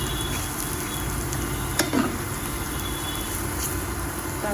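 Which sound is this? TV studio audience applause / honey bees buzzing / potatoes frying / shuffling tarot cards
potatoes frying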